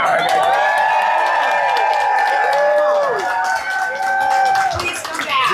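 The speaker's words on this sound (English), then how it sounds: "Cheer one more time for them" An outdoor crowd at a peaceful protest rally in Winston-Salem, North Carolina, cheers, whoops and claps loudly and steadily, the noise easing briefly near the end.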